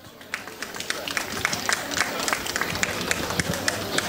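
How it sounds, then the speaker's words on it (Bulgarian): Audience applause for a Balkan cheese project at the Mig Rakovski Balkansko Sirene 2022 event: dense, steady clapping from a crowd, with sharper individual claps standing out, sustained for several seconds. "Моля аплодисменти за проекта."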